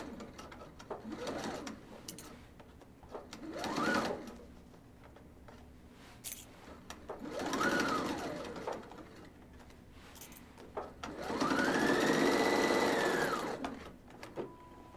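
A home sewing machine stitching fabric with pleating tape runs in four separate whirring bursts, the last one longest, each rising and falling in pitch as it speeds up and slows down, close and moderately loud with quiet pauses between.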